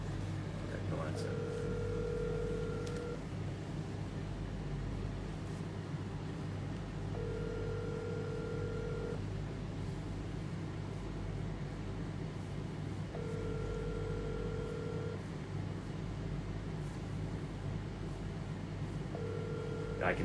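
An outgoing phone call rings unanswered, repeating a ringback tone in evenly spaced bursts every few seconds over a low background hum.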